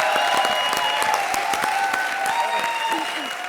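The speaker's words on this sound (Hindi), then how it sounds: "जोड़े तालियां" Studio audience applause on a Hindi comedy show stage, steady dense clapping with a faint musical tone underneath, holding for a few seconds before easing slightly.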